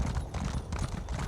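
Horse hooves clip-clop steadily on the ground in the video game The Elder Scrolls Online, a close, even walking rhythm that carries on throughout with no talk over it.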